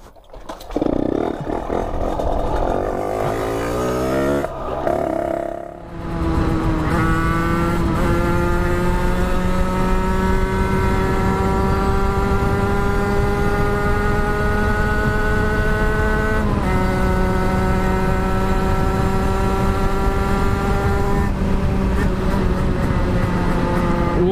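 Motorcycle engines catch after a push-start and rev up, a loud steady roar with rising harmonic tones that holds at a high pitch, close by and running continuously for most of the stretch.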